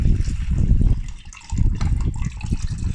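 Old coolant drained from a Ford Fiesta ST pours and splashes through a sieve, a steady close liquid gush with a brief lull midway before the flow resumes.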